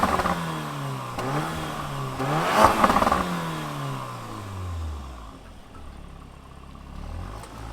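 The four-cylinder engine of a 2023 Porsche Macan T cranks and catches, then revs up in rising and falling sweeps before settling back to a low idle. It is heard close and on its own.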